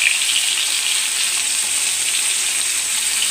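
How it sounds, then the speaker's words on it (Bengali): Fish fry in a pan on a stove, giving a loud, steady, hissing sizzle that runs evenly throughout with no voices. "এই যে এই চুলার মধ্যে আমি মাছগুলো ভাজতেছি"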